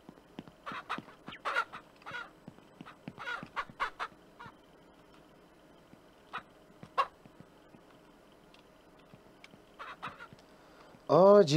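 Chicks on a farm in the video game Ranch Simulator peep and chirp in scattered short calls, some quick runs of several peeps, fairly faint over a quiet background, with a louder burst at the end.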